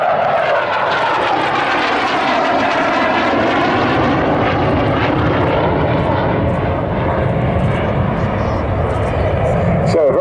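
A Swedish delta-wing jet with a small high-set canard roars past loudly at an air show, the engine roar sweeping in pitch, with a commentator talking over it.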